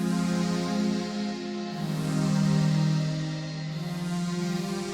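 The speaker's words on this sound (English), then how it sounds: "I'm using the Jupiter Waves preset right there." A synth melody loop uses the Jupiter Waves preset in the Lofi Keys instrument, with sustained, warm tones that swell slowly and shift once, alone and without talking.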